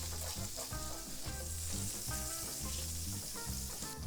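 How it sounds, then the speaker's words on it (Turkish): Margarine melts and sizzles in a hot frying pan, a steady bright crackling hiss running throughout under prominent rhythmic background music. "Şimdi margarini ekliyorum."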